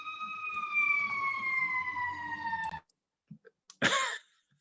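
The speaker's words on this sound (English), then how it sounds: "Siren." A loud emergency siren from a fire truck rolling down a town main street outside a council meeting, a steady wailing tone lasting nearly three seconds before cutting off, followed by a few faint knocks and a brief burst of noise.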